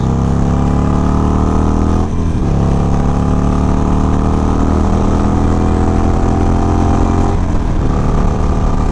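A Harley-Davidson Iron 883 cruiser fitted with a new fairing cruises down a highway, its engine droning loud and steady with brief pitch shifts at gear changes, mixed with wind noise, and no talking.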